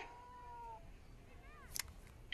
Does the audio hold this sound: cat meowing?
yes